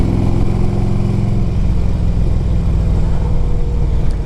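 A 2002 Harley-Davidson Electra Glide Ultra FLHTCUI engine rumbles on a test ride, a loud, steady low-pitched V-twin drone held close with no voices over it.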